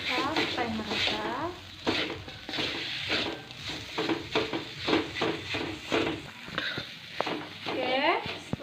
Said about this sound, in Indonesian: Ini saja kita aduk sampai merata.